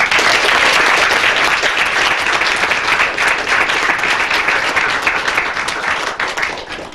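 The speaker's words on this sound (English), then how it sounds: "Let's give him a round of applause." Loud, dense applause from a crowd at a police award presentation, sustained for several seconds before tapering slightly at the end.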